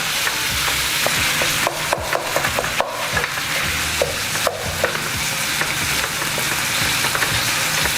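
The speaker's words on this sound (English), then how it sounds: "now we're going to break all this meat up" Ground meat sizzling in a hot pan while a utensil breaks it up, steady loud frying hiss punctuated by scraping and tapping strokes, close by with no talking.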